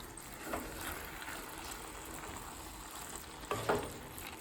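Scrambled tofu sizzling quietly in a pan, a continuous soft frying hiss with a couple of brief scraping stirs from a spoon.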